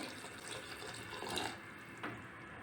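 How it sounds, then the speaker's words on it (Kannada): Half a litre of water pours steadily into a pressure cooker pot for palak soup, a soft continuous splashing rush with a slight surge partway through, quiet and without voices. "ಈಗ ಇದಕ್ಕೆ ನೀರು ಹಾಕೋಣ ಅರ್ಧ ಲೀಟ್ರಷ್ಟು ನೀರು ಹಾಕ್ತಾ ಇದ್ದೀನಿ"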